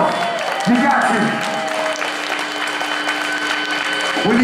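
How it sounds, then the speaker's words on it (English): Audience applause at a live hardcore show at WorkPlay Canteen in Birmingham, Alabama, steady clapping and crowd noise running throughout while someone talks over it near the microphone. "Let's give them a big round of applause."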